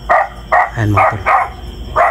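Dogs barking at close range, about five sharp barks in a fairly even rhythm with a brief whimper or yelp in between, loud and alone with no talk.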